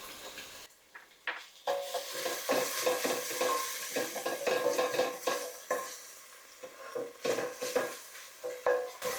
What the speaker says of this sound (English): I have one of our frozen garlic pucks going in.